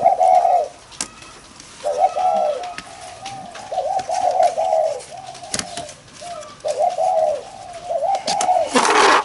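Spotted doves coo in repeated soft, rolling phrases with short pauses between them, clear and close, with occasional sharp clicks and rustles in the background.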